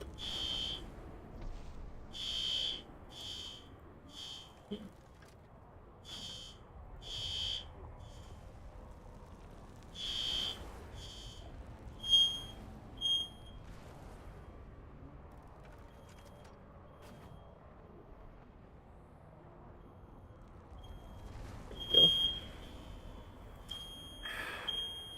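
A smoke alarm beeps over and over in irregular bursts, some rapid and some spaced out, at moderate distance in a room with faint background noise and occasional bumps.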